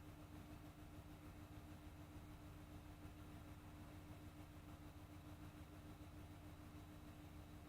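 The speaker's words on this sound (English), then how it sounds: "a car passing by." Car engine rumbling steadily outdoors, a continuous low motor drone with a faint hum throughout, distant and quiet with no voices.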